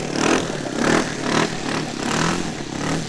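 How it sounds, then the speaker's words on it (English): A smoky ASP 91 model airplane engine on a quarter-scale Sopwith Pup drones steadily at high pitch nearby, its pitch and loudness swelling and dipping in slow waves. "My ASP 91. That is a super smoky engine."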